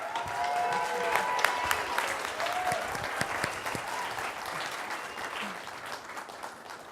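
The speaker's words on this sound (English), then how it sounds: "Give a round of applause for Tracy" A live audience at a University of Baltimore business pitch competition applauds a contestant, a dense, steady wash of many hands clapping with a faint murmur of the crowd, fading slightly toward the end.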